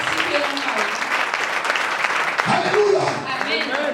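A church congregation applauds the Lord during a sermon, producing a sustained wash of clapping for several seconds with voices calling out underneath.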